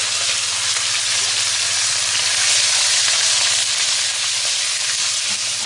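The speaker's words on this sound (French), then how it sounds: "Je vais déposer mes morceaux de veau et je vais donc les saisir pendant à peu près 3 minutes." Pieces of veal searing in hot oil in a pan, a loud, dense, continuous sizzle and hiss that holds steady without a break, close up and with no talking.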